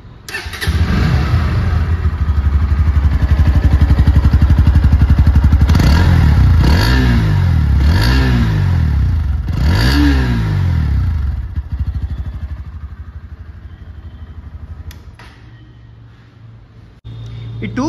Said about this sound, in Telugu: ఇప్పుడైతే బజాజ్ పల్సర్ NS 160 స్టార్ట్ చేసి సౌండ్ బీట్ అయితే చూద్దాం.